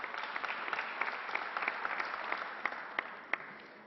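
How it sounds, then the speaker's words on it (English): Audience at a SUNY announcement event applauding, a steady crowd clapping with a few sharp nearby claps standing out, fairly distant and continuous with no talking. "Let's give them a great round of applause."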